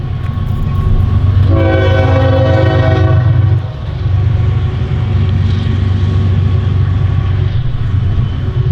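A loud train rumbles by up close while its horn sounds once, a sustained blast of a couple of seconds over the heavy rolling noise.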